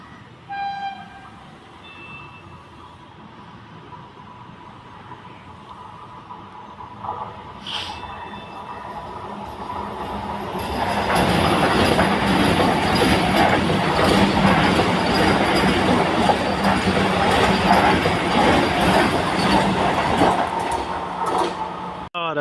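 The Ernakulam–KSR Bengaluru Vande Bharat Express approaching and passing at Punkunnam, a horn tooting early on, then a loud sustained roar of the coaches rushing by close at hand.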